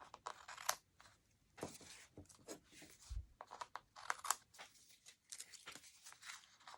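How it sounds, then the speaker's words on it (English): Scissors cut away card stock on the back of a handmade stamped card, making faint, close crisp snips and rustling crunches in irregular bursts. "now I'm going to take my scissors. I'm actually going to cut this away on the back"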